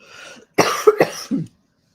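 A person coughs several times in a short burst, close and loud, after a brief faint breath.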